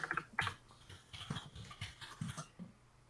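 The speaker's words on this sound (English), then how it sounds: "Man, that mechanical keyboard. It is. You can hear it." Mechanical keyboard typing heard faintly in a home workspace, a quiet patter of irregular key clicks in short bursts with brief pauses between them.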